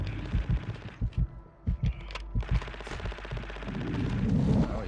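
Bursts of video game gunfire, including rapid machine-gun volleys and single shots, crackle loud and close during an online first-person shooter match, with low rumbling impacts between shots.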